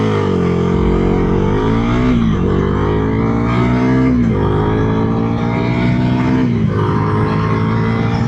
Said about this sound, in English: we are riding the new updated 2025 Dominar 400